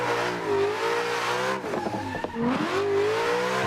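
A car engine in the racing game Assetto Corsa is drifting around a track mod, holding a loud, steady high-revving drone. Revs dip and tires chirp briefly midway before the engine climbs again.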